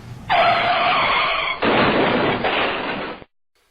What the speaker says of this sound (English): He applied the brakes hard, but it was no use.